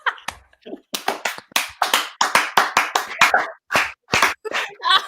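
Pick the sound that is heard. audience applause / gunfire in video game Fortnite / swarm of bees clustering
audience applause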